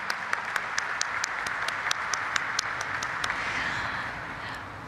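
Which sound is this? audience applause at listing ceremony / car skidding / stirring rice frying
audience applause at listing ceremony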